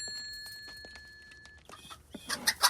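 A rooster clucks in a few short, loud bursts near the end after a quiet stretch with faint rustling, close by.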